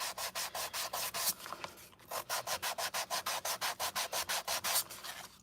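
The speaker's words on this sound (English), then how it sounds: "So now I'm gonna take my little scrubber." A small scrubber rubs back and forth over a craft piece in quick, even strokes, a close, quiet rhythmic scratching with a brief pause midway.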